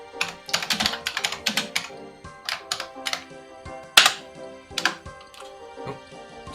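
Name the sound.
typing on a computer keyboard in all caps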